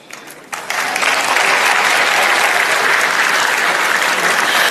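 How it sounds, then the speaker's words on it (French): A hall audience applauds at a ceremony unveiling a mascot, the clapping starting thin, then swelling within a second into loud, steady, dense applause that holds to the end. "Merci de les applaudir encore"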